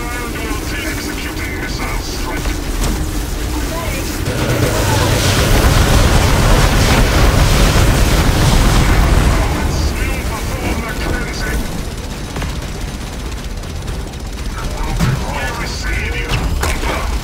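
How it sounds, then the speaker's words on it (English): Missile strike explosions rumble through a Warhammer battle between Blood Raven Imperial Knights and Eldar forces, a dense, sustained roar of low booms and mechanical din that swells in the middle and tapers off, with no voices over it. "Executing missile strike."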